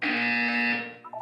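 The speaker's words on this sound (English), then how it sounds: "You will hear a buzzer. When you hear the buzzer, look up at the ceiling." A buzzer in the Portal 2 video game sounds as one loud, steady electronic tone lasting about a second, then cuts off into a brief, fainter two-note tail.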